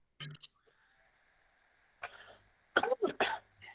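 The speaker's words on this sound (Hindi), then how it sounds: "खांसी हो गया" A few sharp coughs from a chemistry teacher near the end, after a short burst at the start and a quiet stretch with a faint steady hum.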